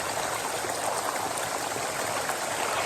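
Constant rushing water fills the clip, a dense even roar like a waterfall heard close by, with no voices.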